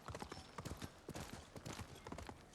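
Horse hooves clip-clop in a steady, busy rhythm of sharp close hoofbeats as a horse travels in the Ghost of Tsushima video game.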